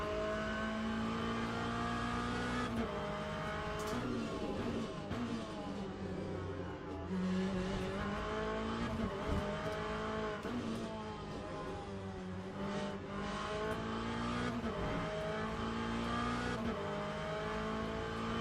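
A GT3 race car in the Le Mans Ultimate racing game drones steadily at high revs throughout, with engine pitch rising and falling through gear changes and occasional tire noise in corners, no talking.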